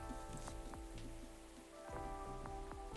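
Soft, steady rain pattering in the video game Coffee Talk 2, a continuous wash of drops under a calm looping melody with plucked notes, fairly quiet throughout.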